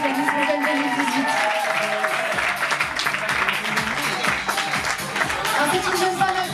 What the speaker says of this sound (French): On peut l'applaudir encore une fois si vous voulez, Miss Morgan 2018.